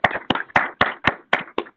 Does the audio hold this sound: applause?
yes